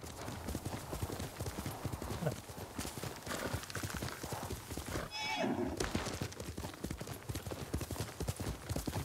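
A horse gallops with rapid, continuous hoofbeats in the video game Ghost of Tsushima, and a short whinny rises over the running midway through, all fairly loud and close.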